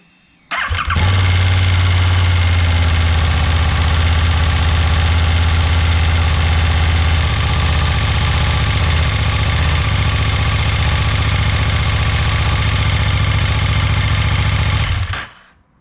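A 2020 KTM Super Duke R motorcycle fitted with a clear clutch cover fires up and settles into a loud, steady, deep idle, heard close and continuous with no voices.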